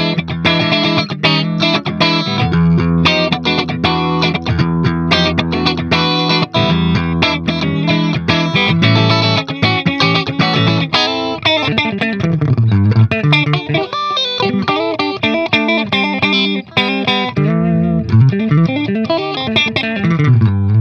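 An electric guitar through a compressor effect on a BOSS GT-100 multi-effects unit plays riffs and chords with an even, compressed sustain and a slightly gritty, chorus-tinged tone, loud and continuous.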